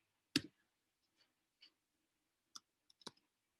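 Mouse clicks and brief keystrokes on a computer while entering a number into a box on a web page, a few sharp isolated taps spread over a few seconds in a quiet room.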